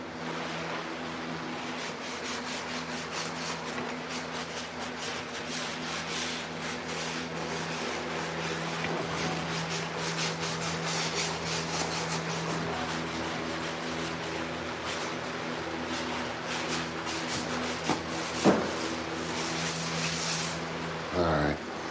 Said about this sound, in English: So now we can sand.